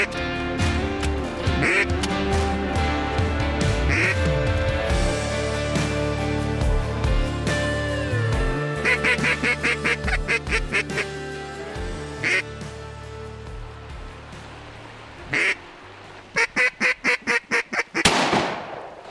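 Mallard drakes and hens on a river give repeated loud quacks, sometimes in quick rhythmic runs and sometimes as single calls, while another steady low sound runs underneath throughout.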